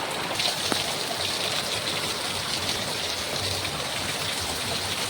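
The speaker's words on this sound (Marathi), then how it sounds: "हे बघा, बघा पाऊस. हा पावसाचा जोर खतरनाक आहे, खतरनाक." Steady heavy rain pouring down, a dense continuous hiss of water drumming on surfaces, with no voices.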